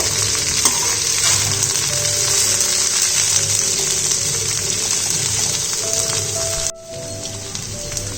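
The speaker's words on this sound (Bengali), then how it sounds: "আরও কিছুক্ষণ আমি এটাকে ফ্রাই করে নেব। সবজিগুলো ভাজা হয়ে এসছে।" Mixed vegetables for a vegetarian Bengali chorchori fry in a pan with a loud, dense, close sizzle and occasional stirring, which dips briefly near the end, with no talking.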